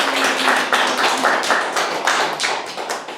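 An audience at a Analects reading lecture applauds a donation for wildfire relief, close and fairly loud, with pulsing waves of clapping and no voices.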